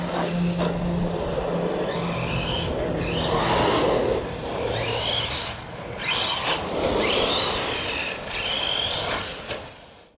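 An Arrma Big Rock RC truck with a metal spur gear powers through a drift, its electric motor whining in rising and falling bursts over gritty tyre scrub on loose ground, fairly close and loud throughout.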